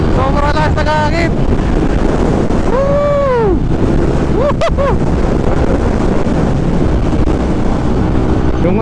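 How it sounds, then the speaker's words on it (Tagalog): Strong wind rushes past during a Yamaha NMAX motorcycle ride on twisty roads in Rizal, a loud, constant buffeting roar with a few brief tonal honks rising and falling above it. "Sobrang lakas na hangin."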